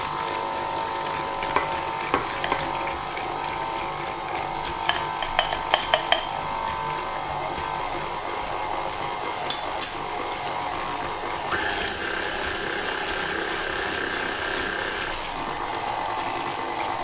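An electric mixer whisks cake batter with coconut and flour in a steady, high whirring drone. Scattered clicks and knocks come as the beaters hit the bowl.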